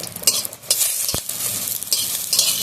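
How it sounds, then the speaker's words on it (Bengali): Curry leaves tempered in hot oil in a wok: a loud, steady crackling sizzle with a spatula scraping and stirring through it, with no talking. "কড়াটা গরম হয়ে গেছে। আর কারি পাতা ফোড়ন দেবো আমি।"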